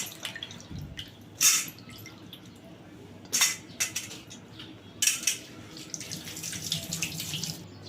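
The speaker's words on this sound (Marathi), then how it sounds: "आता याला बघा दोन पाण्याने धुवून घेऊया" Water splashes and sloshes in a basin as pumpkin is rinsed, with three distinct bursts of splashing over a quiet background of faint trickling.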